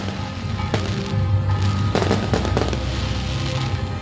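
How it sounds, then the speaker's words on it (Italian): Fireworks display at the Santa Lucia festival in Belpasso, Sicily, with scattered sharp bangs and crackling bursts over a steady roar of festival crowd noise, the loud pops coming in irregular clusters. "questi fuochi d'artificio sono proprio alle nostre spalle"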